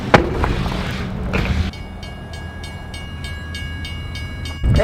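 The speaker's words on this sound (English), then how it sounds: "The train is coming." Rail noise from a passing train: a loud rumbling rush with clatter for the first seconds, then a steadier, quieter rolling hum with faint rhythmic clicks and a constant high tone, rising again at the end.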